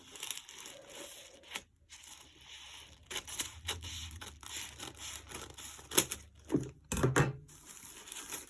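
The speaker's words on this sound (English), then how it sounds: "I'm going to need my scissors." Close-up crinkling and snipping as scissors cut open plastic packaging, a series of sharp irregular cuts and rustles with short pauses, fairly faint, no talking.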